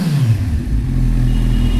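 A Kawasaki superbike engine revs loud and close, its low, throaty roar rising and settling in a continuous run with no voices over it.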